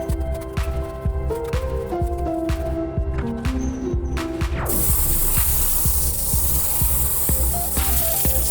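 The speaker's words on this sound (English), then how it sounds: "Now I'm going to hit it again with the degreaser and wash it real fast and spray it off" A car wheel being treated with degreaser and then rinsed, first a rumbling background with short spritzes, then a loud continuous hiss of a water spray jet hitting the wheel up close.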